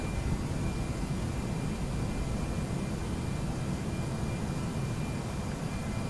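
A steady broadband engine roar with a thin whine runs unbroken as an Air France airliner takes off in the Prepar3D flight simulator game, loud and constant with no voices.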